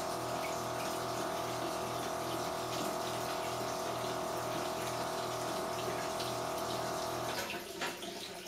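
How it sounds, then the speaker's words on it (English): Steady rinse water runs over an electroformed part before it goes into plating tanks, a continuous faucet-like gush with a low rhythmic pump pulse in the background, ending in a brief clatter. "And we're doing a little water rinse on the part after the actane."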